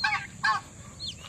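Backyard farm pullets, large white young hens in a flock of about five hundred, give two short bursts of clucking calls close by, followed by a thinner rising chirp, with no talking.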